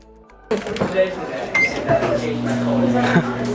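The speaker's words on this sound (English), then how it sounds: "Because you started the microwave." A short electronic beep, then a microwave oven kicks on with a steady low hum that settles in and continues, while people chatter in the background.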